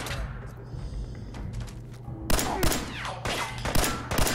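Gunfire erupts in Fallout 4, starting faint, then after a couple of seconds a loud rapid burst of close shots cracks repeatedly in quick succession, dense and sharp, with no talking.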